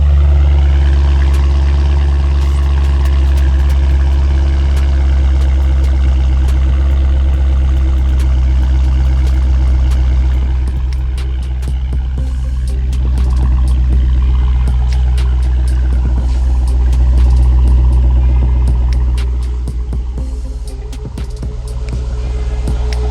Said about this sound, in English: Let's take a listen at this exhaust